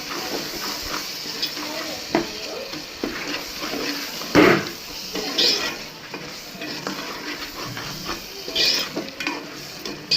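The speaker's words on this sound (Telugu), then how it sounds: "వేసుకొని మంచిగా తిప్పుకోవాలి." Fish curry masala for Andhra-style chepala pulusu being stirred in a pan, with a steady, close-up sizzle of frying and intermittent scraping and spoon clatter against the metal throughout.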